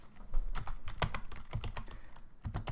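Computer keyboard typing while code is written, a steady run of brisk, close key presses with a few heavier strokes, loud and alone without speech.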